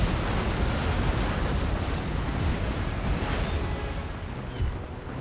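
Cannons firing round shot during a naval battle in Empire: Total War, a dense continuous rumble of booming broadsides and explosions, loud and sustained throughout with no talk.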